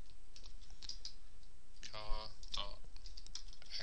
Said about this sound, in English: we do that by typing in this line